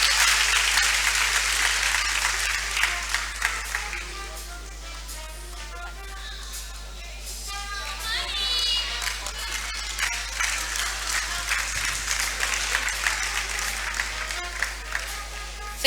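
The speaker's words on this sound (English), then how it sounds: "I thought he deserves a clap for this." Long, full audience applause at a university seminar for a lecturer, steady crowd clapping with some sharper close claps and a few voices mixed in, under a constant low hum.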